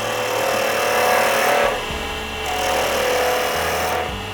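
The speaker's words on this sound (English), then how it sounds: "what I'm doing with this spindle gouge is just making some shapes in here." A spindle gouge cuts into spinning wood on a lathe, giving a loud, continuous scraping rasp with the steady whir of the machine beneath, easing off briefly and then resuming.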